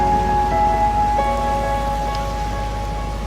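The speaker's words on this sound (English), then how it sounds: "We'll see how the rain goes" Heavy rain pours steadily during floods in Myanmar, a dense continuous hiss of drops on surfaces close by, with no voices.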